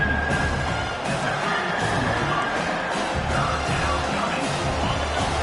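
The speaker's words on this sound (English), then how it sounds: "Here comes this home crowd as defense tries to get off the field on third down." Home crowd in the Redshirt CFL college football video game, Clemson vs South Carolina, roaring and cheering on a third down, a dense sustained wash of noise with a commentator's voice underneath.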